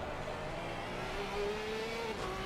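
A Porsche race car engine in a sim racing game at Spa Francorchamps drones steadily with a rising tone as it accelerates, a continuous high-pitched whine with faint tire noise and no talk.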